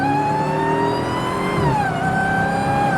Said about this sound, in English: I love that intake. The whine is absolutely unbelievable.